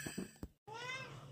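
A pet cat meows indoors at home, with a couple of short soft sounds followed after a brief gap by one clear, drawn-out meow close by.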